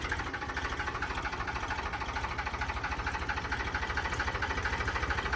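A Farmtrac 45 tractor engine runs steadily nearby, a continuous rhythmic diesel chug with constant mechanical vibration and no voices over it.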